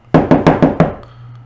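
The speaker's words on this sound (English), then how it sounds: "there was a knock at the door" Five loud, close knocks at a door in a quick, even rhythm, each sharp and resonant, followed by a faint low hum once the knocking stops.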